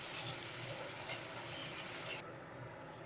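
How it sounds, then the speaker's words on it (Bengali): Cut potatoes frying in hot mustard oil in a wok produce a steady hiss and sizzle. The sound drops in brightness near the end and is followed by a brief knock. "এই তেলের মধ্যে আমি কেটে রাখা আলুগুলো দিয়ে দেব আলুগুলো একটু ভালো করে ভেজে নেবো"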